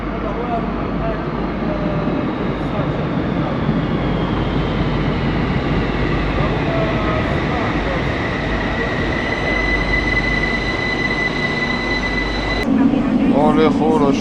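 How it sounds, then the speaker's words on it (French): A metro train rides through Algiers toward the Jardin d'Essai station, giving a steady loud rumble with long wheel-squeal tones. A brief louder burst comes near the end. "je suis dans le métro, direction Jardin d'Essai, quelques stations"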